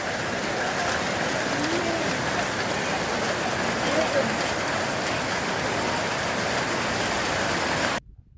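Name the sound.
hailstorm on the Mardi Himal trek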